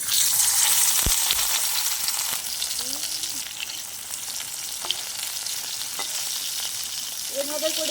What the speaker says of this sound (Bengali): এবার তেলের মধ্যে মাছগুলিকে দিয়ে দেব।